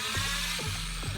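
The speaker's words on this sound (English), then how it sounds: "It's just drilling on through." A power drill bores through a wooden pergola beam with a loud, continuous high-pitched whine and grinding, its pitch dipping in a few regular pulses as the bit pushes through the wood.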